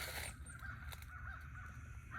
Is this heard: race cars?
no